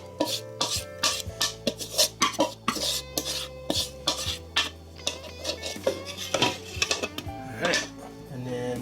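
A spoon scrapes and knocks against a bowl, clearing egg, bacon and cheese casserole mixture into a crock pot. Many sharp clinks and rubbing scrapes repeat close by over steady background music.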